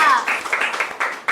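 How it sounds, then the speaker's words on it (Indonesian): Students in a Hindu religion classroom lesson clap together in a quick round of uneven hand claps, close by and moderately loud, with a voice speaking over the start. "tepuk tangan dulu"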